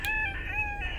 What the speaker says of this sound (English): Tarzan, the oversized rooster, one of a family of oversized poultry